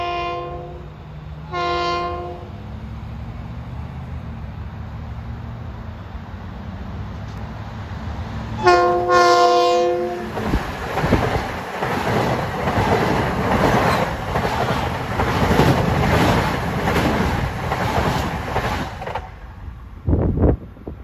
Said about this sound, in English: the gates are going down for train 1062 from Grand Central to Ronkonkoma